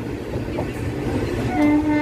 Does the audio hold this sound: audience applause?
no